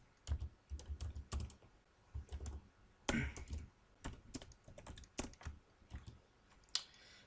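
Steady bursts of C++ code being typed on a computer keyboard, with clustered key clicks in uneven runs and short pauses, fairly close and clear, no talking.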